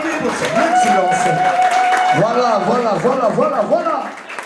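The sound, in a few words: party guests applauding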